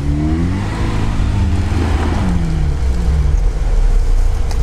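A Lada Niva on studded winter tyres revs hard as it accelerates up a steep, sandy slope of about 45 degrees, its engine note loud and close, rising and falling with shifting pitch throughout.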